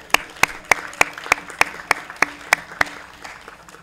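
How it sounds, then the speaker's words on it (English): Sparse, evenly spaced claps ring out at a Business After Hours chamber of commerce gathering at Stonehill College, about ten sharp hand claps in a steady rhythm over a faint room murmur. "let's just first off have a round of applause for our host"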